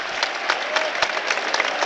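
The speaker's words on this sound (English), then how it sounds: "The applause you can hear around is for Joe Linton" Football stadium crowd applauds during an FA Cup match between Newcastle United and Brighton, a broad, sustained clapping from a large crowd with scattered sharper claps standing out, moderately loud and spread wide.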